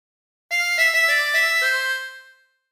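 A harmonica plays a short phrase of the folk song Bella Ciao, a few clear sustained reedy notes over about two seconds, close and alone, ending in a soft fade.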